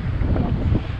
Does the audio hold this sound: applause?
no